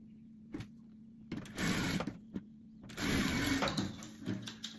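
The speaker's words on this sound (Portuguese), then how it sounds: "E vou passar aqui uma costura" A sewing machine stitches a seam along the corner of fabric in bursts of rapid mechanical whirring, stopping and starting several times, close and loud with brief pauses between runs.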